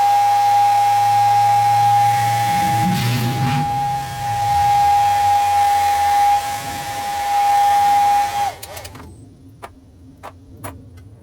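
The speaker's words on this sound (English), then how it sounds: "Now you get airbrush." An airbrush hisses steadily as it sprays paint onto a homemade crankbait, accompanied by a constant whining tone and the hum of a compressor, then it stops, leaving a few light clicks and taps.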